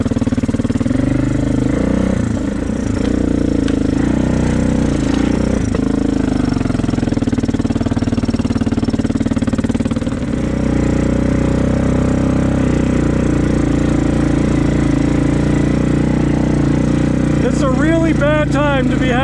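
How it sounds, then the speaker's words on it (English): Yamaha Kodiak ATV engine running loud and steady nearby, with a couple of sharp popping backfire bursts early on, and a voice heard near the end. "Yeah, she's backfiring pretty good."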